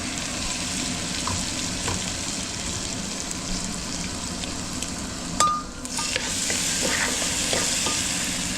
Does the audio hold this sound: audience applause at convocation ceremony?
no